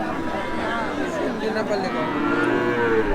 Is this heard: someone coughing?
no